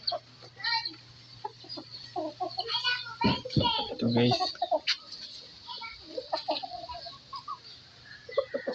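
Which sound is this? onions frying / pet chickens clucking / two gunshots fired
pet chickens clucking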